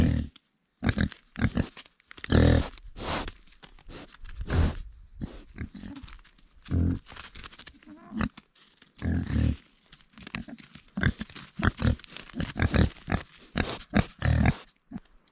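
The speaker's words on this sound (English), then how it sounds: "These pigs are a Swedish heritage breed called Linderösvin." Young Linderösvin pigs, a Swedish heritage breed, grunting and snorting in short repeated bursts close by, with rustling and crinkling between the grunts at a small off-grid homestead.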